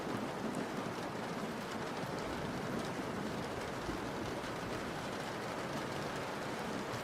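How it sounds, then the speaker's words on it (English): Faint, steady rain falls with a soft, constant hiss and patter, distant and unbroken throughout. "It is kind of rainy though."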